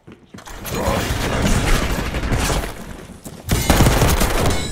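Rapid, sustained gunfire from a first-person shooter match on the Stakeout map, likely including the Kompakt 92 submachine gun, with dense overlapping bursts that ease briefly and then erupt louder near the end.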